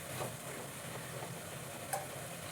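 Mushroom gravy stirred in a pan after the lid comes off, a low steady simmering sizzle with soft scraping strokes and one brief clink, close and fairly quiet.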